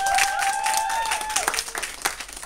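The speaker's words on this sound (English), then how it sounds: "can we give them a round of applause?" An audience applauds a youth program group at an event, brisk crowd clapping under a sliding tonal sound, fairly loud and then thinning out within a couple of seconds.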